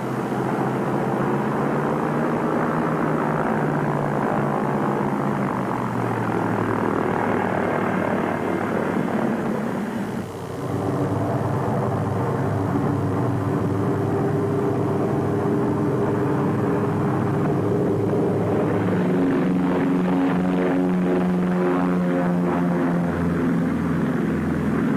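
A propeller plane's engine drones loudly and continuously nearby as it revs and pulls away for takeoff, the pitch shifting partway through.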